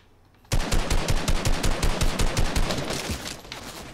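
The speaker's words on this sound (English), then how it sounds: "You're getting shot in the back." Rapid automatic gunfire in an online shooter game bursts in suddenly and keeps going in a fast, loud, evenly spaced volley that eases slightly toward the end.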